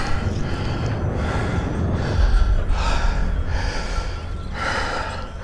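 Heavy, ragged breaths and gasps from a person worn out after a steep, nearly vertical climb on a motorcycle trip, repeated in loud, close bursts of about one per second, with no talk.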